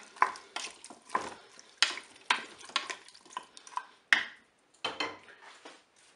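Food is stirred in a Cookeo electric pressure cooker pot, with a crumbled beef stock cube mixed in, producing irregular close scraping strokes and light clatter against the pot with short pauses between them.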